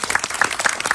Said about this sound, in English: round of applause for Richie.